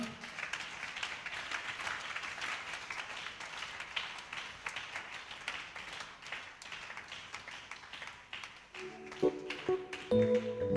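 Steady applause from a church congregation at a Sunday service fills the space for about nine seconds, dense and continuous, then tapers as a tonal instrument begins playing.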